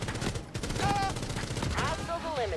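Rapid bursts of gunfire in the Rainbow Six Mobile shooter game, dense and continuous, with tonal game effects chirping over the shots and a voice faintly mixed in.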